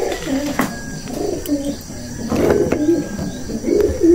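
Racing pigeons of Rey So lines being unboxed from a shipping box, with soft low coos and a few faint chirps repeating close by, mixed with rustling and bumping of the box.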